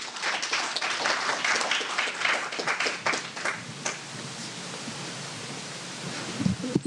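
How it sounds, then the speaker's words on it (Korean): Broadband crowd applause at a 2019 Jeju Forum session on stewardship codes and financial markets, a dense wash of clapping that swells early and slowly thins over about seven seconds. "큰 박수로 모시겠습니다"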